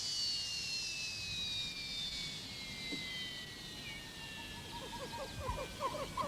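A cartoon airplane carrying a heavy suitcase full of animals to Africa drones steadily with a falling jet-engine whine that holds through the whole stretch at moderate loudness, joined near the end by quick squawking, quacking sounds.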